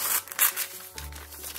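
Paper grocery store advert pictures are roughly cut out with scissors, producing brief crinkling snips and rustles of thin paper, close and moderately quiet.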